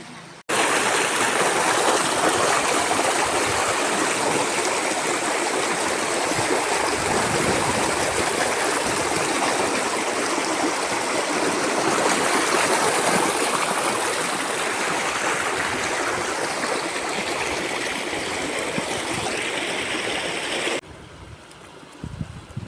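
A river at a bathing spot rushes in a loud, continuous broadband wash of flowing water, steady for about twenty seconds with some wind buffeting on the microphone before it drops off abruptly near the end.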